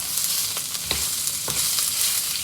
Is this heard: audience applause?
no